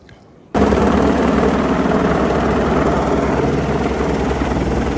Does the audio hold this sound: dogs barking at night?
no